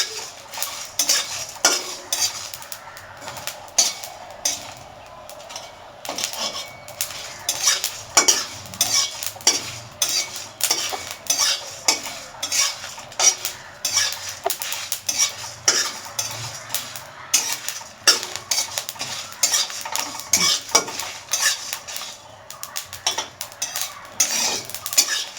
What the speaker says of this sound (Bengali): এটাকে হালকা আছে ভেজে নেব।